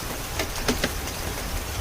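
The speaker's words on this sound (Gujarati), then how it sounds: "અત્યારે રાજકોટમાં ફૂલ વરસાદ પડી રહ્યો છે" Steady hiss of heavy rain pouring down in Rajkot, with a few sharper drips and splashes standing out nearby.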